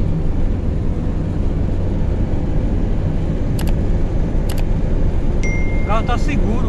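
A VW Gol held at full throttle with a carburetor problem drones with a constant heavy rumble from inside the car, steady and unchanging, with brief clicks and a short voice near the end.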